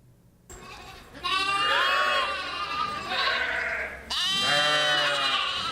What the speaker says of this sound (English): And at the Parsons Farm in Richford, there are close to 80 newborn lambs